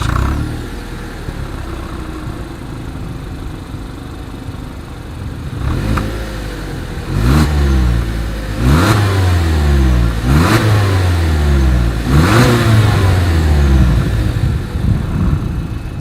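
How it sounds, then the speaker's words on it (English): A 2020 Toyota Yaris exhaust idles steadily, then is blipped through about five sharp, evenly spaced revs that climb and fall back, loud and close with no talking. "As always, here is that exhaust clip."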